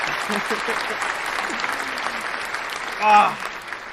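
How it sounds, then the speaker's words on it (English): A canned applause sound effect played during a livestream about collectible toys, with a steady wash of clapping throughout and a brief louder swell near the end. "Applause."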